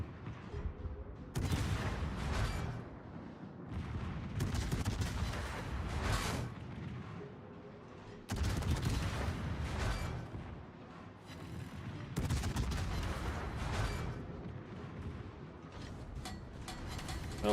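A warship's heavy armor-piercing shells firing in World of Warships: three deep booming salvos, each a loud crack followed by a long rumbling roll, spaced several seconds apart over continuous battle noise.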